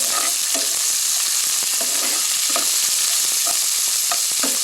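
Onions, regular onions and green chillies sautéing in a pan for coconut cabbage poriyal, a steady dense sizzle with repeated soft stirring scrapes throughout, close and fairly loud, no voices.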